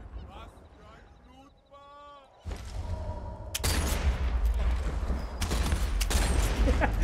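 Gunfire in the video game Sniper Elite 4, where a rifle fires heavy iron balls: a loud shot bursts in after a stretch of talk, then dense crackling volleys and booms continue under excited voices.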